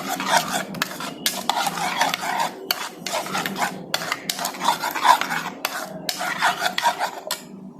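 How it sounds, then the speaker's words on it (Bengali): A spoon stirs and mixes a chicken marinade with salt and a little sugar in a bowl, making repeated close scraping and rubbing strokes in an uneven rhythm with short pauses. "সামান্য একটু চিনি, অল্প দিয়ে ভালো করে মিক্স করে নেব।"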